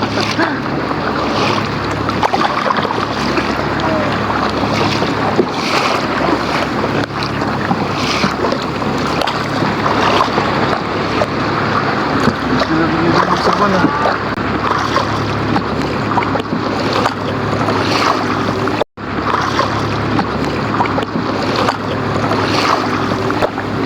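A boat paddled by two people on the open sea heading toward an island, with steady wind, water wash and splashing strokes throughout, close and loud, with faint voices now and then.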